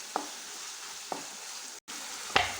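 Chicken with kasuri methi is stirred in a pan, making a gentle, steady sizzle broken by a few sharp clicks of the spoon against the pan.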